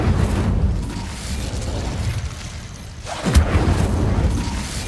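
Confringo blasting spell in Hogwarts Legacy going off as a loud, rumbling boom that fades out, followed by a second sharp burst with a crackling tail about halfway through.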